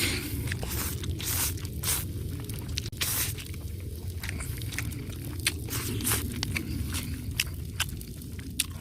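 Pork belly grilled in a countryside setting is bitten and chewed up close, with soft wet crunches and squishy smacks repeating steadily over a low background hum.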